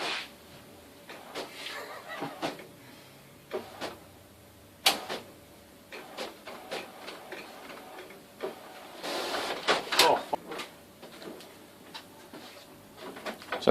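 An A3 colour printer runs slowly, giving off irregular mechanical clicks, ticks and soft sliding whirs over a low hum, at moderate loudness with occasional louder clacks.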